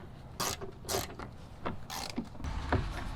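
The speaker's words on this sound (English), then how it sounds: "So all I did is just put a little socket with a screwdriver tip, and now I can get to the screws easy." Small ratchet fitted with a screwdriver-tip socket turning screws on a truck bumper, a few quiet close clicking and rasping strokes in quick succession.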